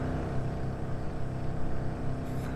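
The Piaggio Ape engine in the game Car For Sale Simulator 2023 makes a steady, buzzy low drone that runs continuously and close with no speech.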